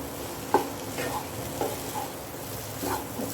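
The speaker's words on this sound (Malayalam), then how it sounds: "അപ്പോൾ ഇത് നല്ലതുപോലെ മിക്സ് ചെയ്ത് കൊടുക്കാം." Poha being stirred and mixed in a frying pan, a spoon scraping through it in repeated strokes about once a second over a soft steady sizzle, close and moderately quiet.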